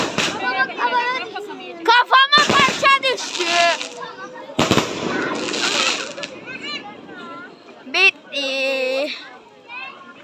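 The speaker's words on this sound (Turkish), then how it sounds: "havai fişek şeyimizi dağıttık attık" Fireworks go off at an engagement celebration, with a few sharp, loud bursts among excited children's voices and chatter close by.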